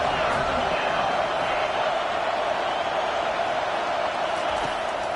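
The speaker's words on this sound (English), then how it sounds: "Decibels rising as the crowd gets behind this defense on third down." Steady roar of a large college football stadium crowd cheering on a third-down defensive play, loud and continuous throughout with no breaks.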